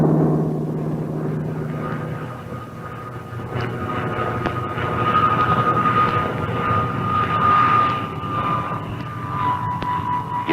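A Grumman F6F Hellcat fighter plane flies past with a loud, continuous piston-engine drone that swells in the middle and carries a steady tone, with no talking.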